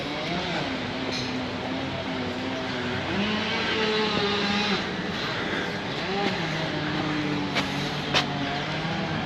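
Cars passing on a hilly street in Porto Cristo, Mallorca, their engine hum rising and falling at moderate distance beneath a continuous background wash, with faint talk.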